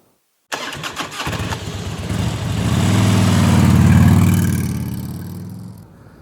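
A Road Glide motorcycle engine cranks briefly, catches and fires up loud and close, its rumble swelling over a few seconds as it revs before easing back toward idle.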